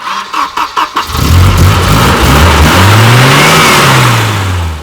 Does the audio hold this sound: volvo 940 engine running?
yes